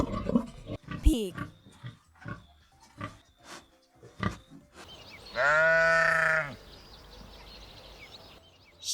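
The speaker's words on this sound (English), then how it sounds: "Sheep." A sheep bleats once in a long, wavering, strongly voiced call at close range, following a stretch of spoken words and brief sounds.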